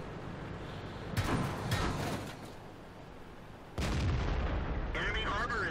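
Tank gun fire in World of Tanks, with a T26E4 Super Pershing on the Sand River map: heavy booming shots land at intervals, with rumbling echoes and engine and battle noise beneath, and a voice talks over it.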